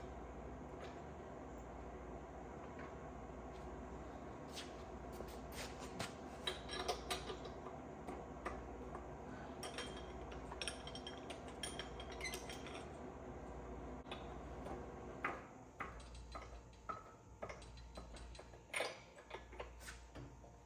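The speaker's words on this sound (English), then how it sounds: "deep socket with a ratchet on the top where you can't get it" Ratchet on a deep socket working rusty spark plugs out of an aircraft engine's cylinders, giving irregular close metallic clicks and clanks over a low steady background hum, with no talking.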